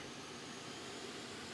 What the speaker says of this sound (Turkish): Bu ne kar büyükmüş lan bu uçak.